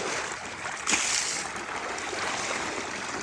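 Borewell water pours steadily into an outdoor bathing tank, a continuous close splashing rush with a brief louder splash near the start.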